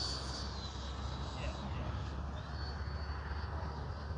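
An FMS Rafale 80mm RC jet plane comes in to land, its steady high whine of a ducted fan sustained and fairly loud throughout, with a faint descending tone and wind noise underneath and no speech in the clip.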